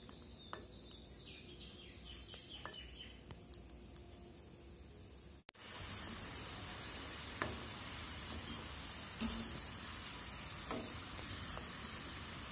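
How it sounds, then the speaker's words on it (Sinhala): Bread cheese samosas deep-frying in a pot of oil give a steady close crackling sizzle, starting quieter with birds chirping in the background, then jumping louder and denser partway through, with occasional pops. "මේ විදිහට හදාගත් අපේ සමෝස ටික අපි ගැඹුරු තෙලේ බදගමු."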